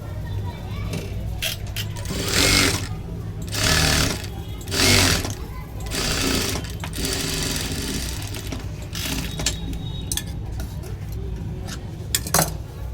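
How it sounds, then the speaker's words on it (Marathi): A sewing machine stitches a blouse waistband close by, running as a steady mechanical whir in several longer bursts with brief pauses, while a voice talks over it. "तर याला आता आपण पाच नंबर शिलाई मारून घेणार आहे जेणेकरून आपल्याला हात शिलाई करायला नंतर जमेल"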